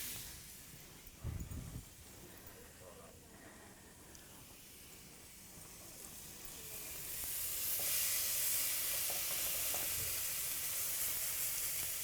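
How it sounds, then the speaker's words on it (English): Gourmet burgers sizzle in a pan with a steady frying hiss that swells louder in the later half, plus a brief thump early on and no voices. "Hear that nice sizzle?"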